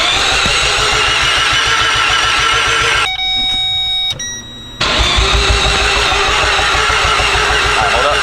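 A rotary car engine fires up for its first start, a loud rapid pulsing idle with a brief break where a chime and electronic tones sound, then the raspy running resumes strongly.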